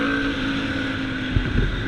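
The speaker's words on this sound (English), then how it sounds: "Man, that bike sounds so brutal." A TVS Apache RTR 180 motorcycle modified into an off-roader runs with a steady, buzzing engine drone up close, and a couple of brief throttle pulses come near the end.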